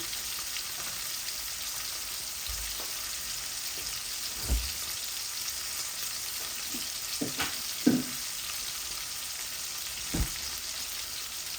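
Spices fry in a pan with a soft, steady sizzle, marked by several distinct knocks and scrapes from stirring spaced through the clip.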